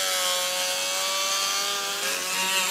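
Steady continuous sawing through a white oak pergola beam to cut a tenon, a dense even rasp with ringing tonal overtones held at close range for the whole stretch, no voices.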